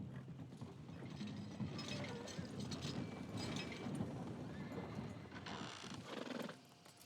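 A horse in the Red Dead Redemption 2 video game, with hooves clip-clopping and mechanical rattling sounds over a steady, busy background for several seconds before the sound drops away near the end.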